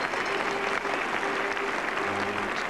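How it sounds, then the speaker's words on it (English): Cricket crowd at Lord's applauding Graham Gooch during an England v West Indies Test, steady dense clapping with a faint tonal hum, continuous for the whole stretch. "Justifiably, the West Indians join in the applause. A standing ovation for Graham Gooch."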